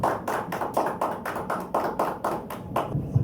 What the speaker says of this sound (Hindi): ताली रुकनी नहीं चाहिए।